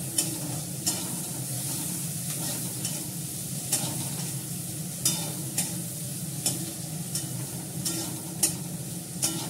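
Onions fry in a pan with a constant close sizzle, broken every second or so by sharp scrapes and clacks of a spoon stirring against the metal, and no voices.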